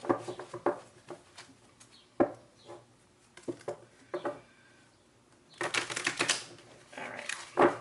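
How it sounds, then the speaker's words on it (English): A deck of stiff tarot cards is shuffled by hand, bursts of crisp riffling and tapping clicks separated by pauses, one longer flurry near the end. "These cards are like impossible to shuffle."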